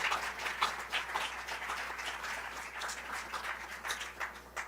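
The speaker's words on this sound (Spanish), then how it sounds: "Denle un aplauso al Señor, por favor." A church congregation applauds in a steady, dense wash of clapping, fairly faint and distant, over a low background hum.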